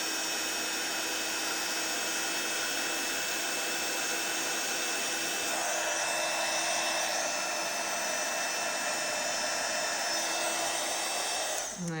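A heat tool blows steadily on an embossed card sentiment, a continuous whirring rush of air that stays even throughout, slightly louder midway, then cuts off at the end.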